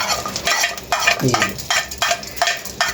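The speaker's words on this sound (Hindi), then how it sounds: "ये प्याज के साथ ही हम इसको फ्राई करेंगे।" Green chillies fry with onions in a pan for malai kofta, sizzling in short bursts between stirring strokes, close and rhythmic with no talk.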